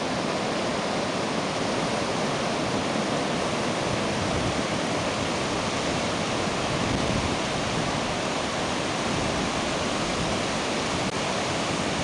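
Sea waves wash along a long sandy beach at Karataş, Adana, a constant broad roar of surf without a break, loud and even throughout.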